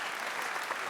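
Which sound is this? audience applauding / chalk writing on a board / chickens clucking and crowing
audience applauding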